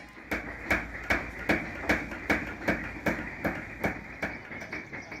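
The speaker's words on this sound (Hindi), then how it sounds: "आप महसूस करेंगे हथौड़े वाला हाथ किसी साज की तरह बज रहा है" Rhythmic hand hammering of silver or gold leaf by a craftsman, about a dozen sharp, evenly spaced blows in a steady musical cadence, close and clear with no voices.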